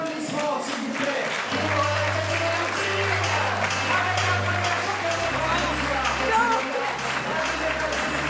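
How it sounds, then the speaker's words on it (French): An audience at an awards ceremony applauds continuously, a dense wash of clapping with a low musical drone running underneath. "À vos applaudissements, s'il vous plaît."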